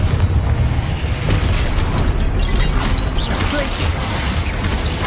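A Confringo fire spell bursts in Hogwarts Legacy, a loud, dense blast of broadband rumble and crackle that fills the whole few seconds with no clear gaps.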